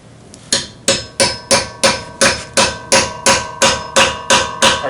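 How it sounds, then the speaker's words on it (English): A hammer pounds an old socket onto a stuck Nissan locking wheel lug nut: about fourteen sharp, loud, evenly spaced metallic strikes in quick steady rhythm, with no talk. "It's good to pound it a little bit to loosen it up a little bit."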